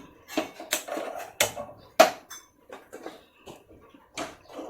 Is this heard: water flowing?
no